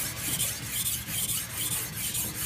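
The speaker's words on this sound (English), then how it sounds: "as I push away, I'm pushing hard and into the stone and sharpening the knife" A kitchen knife is stroked back and forth on a sharpening stone, a close, rhythmic gritty rasp of about five or six strokes with no talking.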